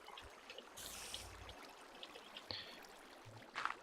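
Water flows in the Minecraft video game, a soft, faint trickling stream that runs quietly, with a few small splashy bursts and no talking.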